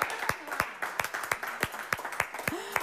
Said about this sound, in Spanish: Que le aplauden, por favor, que fue la de la idea.